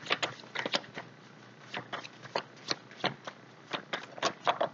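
Tarot cards are shuffled by hand in a quiet room. Repeated quick riffling bursts and soft papery slaps come close and clear, with no talking.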